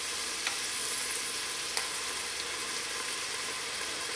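Minced garlic sizzles steadily in a hot pan for white bean turkey sausage chili, a continuous close frying hiss with a couple of small pops and no talking.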